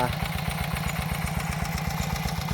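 A small engine-driven pump drains a rural fish pond in Thailand, its motor chugging in a steady, fast low-pitched rhythm throughout, close and loud with no pauses.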